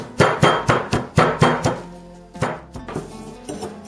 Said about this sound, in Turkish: 3 diş sarımsağımız var. Onu dövelim.